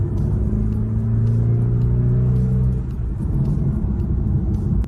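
Engine of a 2024 BMW 2 Series revving up as the car accelerates, a loud steady rumble with rising drone filling the cabin, then easing into road noise.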